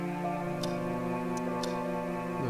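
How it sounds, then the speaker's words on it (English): A grandfather clock ticks steadily nearby, a faint, regular tick-tock heard alone against a soft background hum. "A majestic grandfather clock was gently ticking nearby."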